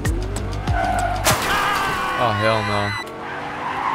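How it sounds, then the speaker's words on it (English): A car in the Fortnite video game drifts with loud, close tire squeals and skidding that rise and fall over engine noise, ending abruptly as the car stops; a man reacts briefly with a short exclamation. "Now I have to drift my car into this parking spot without touching anything"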